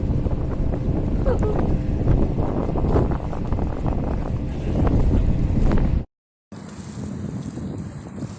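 Wind-buffeted rumble of a cable ferry running along its cable across the water, steady and loud for six seconds, then a brief dropout before the water and wind noise resumes more quietly; a voice speaks over it.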